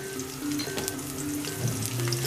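Sliced onions with a little salt fry in a pan, giving a steady close sizzle with faint stirring and no talk.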